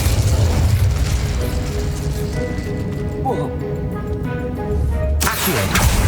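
An Incendio fire spell cast in Hogwarts Legacy gives a loud, continuous whooshing roar with a rumbling low end, fading briefly before a fresh burst near the end.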